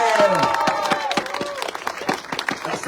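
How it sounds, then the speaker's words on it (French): Audience clapping at a Tour de l'Orne 2024 cycling awards ceremony for Samuel Le Breton, a burst of applause with scattered sharp claps mixed with a voice and crowd murmur. "On peut l'applaudir."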